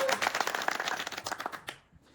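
Scattered clapping from a small audience at a badminton club's founding ceremony in Busan, a patchy burst of hands that thins out and fades away near the end.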